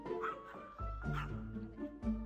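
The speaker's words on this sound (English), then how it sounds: "chihuahuas have big barks for their tiny bodies" A chihuahua barks in several short, sharp yips and woofs, close and fairly loud, in an uneven series of about four bursts with brief whimpering tones between them.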